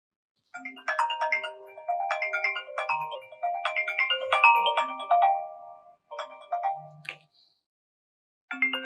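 A mobile phone plays a melodic ringtone in a TV drama scene, a bright tune repeated in phrases at close range. It pauses briefly and then starts again, with no talking.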